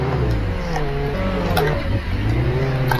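Jeep engine in Roblox Jailbreak revs steadily and loudly, its pitch rising and dipping as it drives, with game ambience underneath and no talk.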